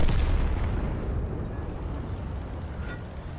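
Artillery shells slam down in a World of Tanks battle: a heavy, booming impact at the start that rumbles on through a long, loud low-frequency decay, with no voices over it.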